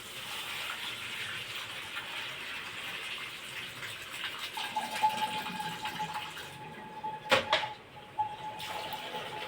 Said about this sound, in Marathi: आता यामधलं आपण पाणी एखाद्या अशा टोपल्यामध्ये किंवा चाळणीमध्ये पाणी गाळून घ्यायचं आहे आपल्याला